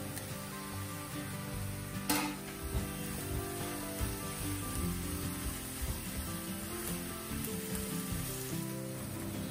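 Tomatoes added to a cooking pan, giving a faint, continuous sizzle with a few small clinks and bumps scattered through.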